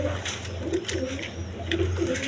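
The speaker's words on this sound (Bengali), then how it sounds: "একদম কোয়ালিটি সম্পন্ন কবুতর" Pigeons coo close by in a steady series of low, soft, repeated coos. The birds are kept as high-quality breeding stock, with male and female pairs.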